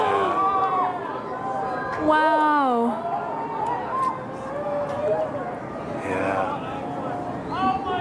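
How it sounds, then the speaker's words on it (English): At the 2023 annular solar eclipse, a crowd cheers and screams in the distance under excited nearby voices. Short whoops rise and fall across the scene. "You can hear people screaming in the background."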